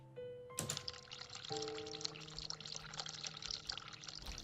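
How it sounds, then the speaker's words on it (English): Tap water runs from a sink in The Cat Lady video game, a clear splashing pour that begins with a sharp onset and keeps flowing steadily, close and fairly quiet, over faint tonal background music. "Turn cold water on."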